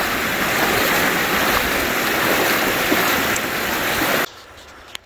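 Stream water rushing over a rocky low water crossing on a forest trail, loud continuous flow close by that cuts off abruptly near the end.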